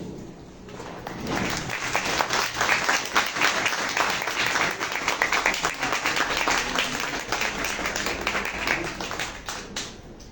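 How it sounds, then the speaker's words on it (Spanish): A church congregation applauds to welcome the pastor at a Sunday service, a sustained wash of many hands clapping that swells quickly and holds steady for several seconds before tapering off. "recibamos con un aplauso a nuestro pastor Yavid"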